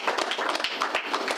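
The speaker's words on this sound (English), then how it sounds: "Please give him a round of applause" Audience applause at a business presentation for Halden McCall Plc, a brief burst of many hands clapping at a quick, uneven rhythm, moderately close and steady throughout.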